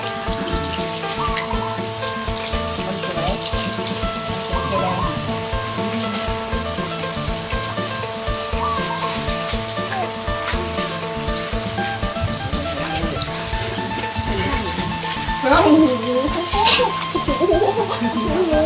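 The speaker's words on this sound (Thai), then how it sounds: "ขั้นตอนต่อไปครับนำกล้วยมาทอดครับ" Banana slices fry in hot oil for banana chips, a steady bubbling sizzle running throughout with faint voices in the background and a few louder splashy bursts near the end.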